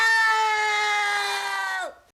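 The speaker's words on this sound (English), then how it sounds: "This harsh scream aims to establish the film's tone" A harsh, sustained scream opens the film The Coffee Table, a loud tonal cry held steadily for nearly two seconds before bending downward and cutting abruptly to silence.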